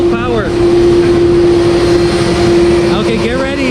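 A jet airliner's engines roar at full power at Maho Beach, St. Maarten, a loud, steady, close blast of engine noise with a sustained whine that fills the whole clip.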